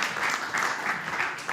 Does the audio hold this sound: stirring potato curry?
no